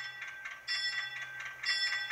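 Repeated ringing of the bell on a PIKO HO-scale Whitcomb 65-ton diesel locomotive model, a bright metallic clanging in steady strokes, close and clear with no talk.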